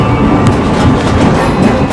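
A train pulls out of Kasimbazar station on the way to Murshidabad, a loud, steady rumble with faint rhythmic clatter heard from on board.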